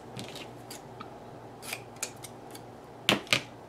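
Scissors snipping a paper page for a planner, a few faint close cuts ending in two sharper snips.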